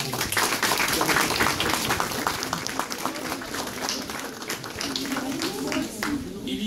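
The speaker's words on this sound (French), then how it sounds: "on peut les applaudir si tu veux" Scattered clapping from a group at an Armistice ceremony in Creil, France, ripples on for several seconds, a busy patter of hands with some voices mixed in.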